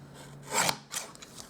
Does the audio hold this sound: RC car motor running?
no